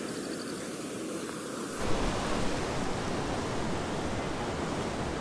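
Heavy muddy monsoon floodwater rushing through a rocky seasonal riverbed near Kotdwara during downpour, a dense steady roar that swells louder after the first two seconds and continues unbroken with no talk.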